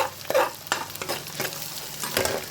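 Mixed vegetables fry with masala in a pan, sizzling steadily while a spoon stirs and scrapes in short strokes, close and clear with no talking.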